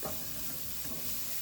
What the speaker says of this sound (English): And stir this in,